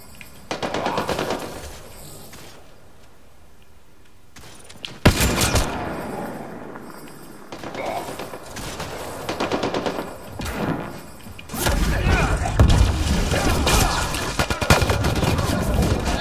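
Gunfire in Mass Effect Andromeda comes in bursts of rapid automatic shots with gaps between them, then a dense loud stretch of continuous firing toward the end.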